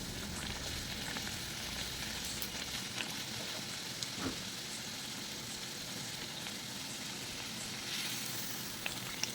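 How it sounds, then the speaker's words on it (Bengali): Luchi deep-frying in hot oil in a village kitchen, a faint, even sizzling hiss that runs on without pause, with only a few small pops. "এবার এটাকে লাল লাল করে ভেজে নেবো লুচিটাকে।"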